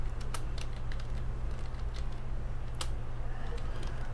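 Keys on a computer keyboard clatter in irregular, moderately loud taps while code is written for a Raspberry Pi Pico, over a steady low hum, with no talking.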